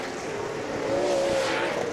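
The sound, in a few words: off-road racing trucks screaming into a turn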